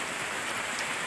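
Steady, dense rain pours down, a continuous hiss of drops hitting surfaces with no voices.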